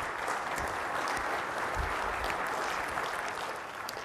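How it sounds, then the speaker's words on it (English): Audience at a 2016 partner summit keynote bursts into steady, dense applause from a large crowd, sustained for a few seconds before beginning to taper at the end. "we can clap on that"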